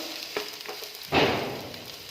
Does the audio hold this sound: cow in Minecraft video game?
no